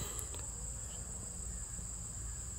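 Honey bees buzz steadily around fruit plants outdoors, a faint continuous insect drone with a high constant whine above it and no voices.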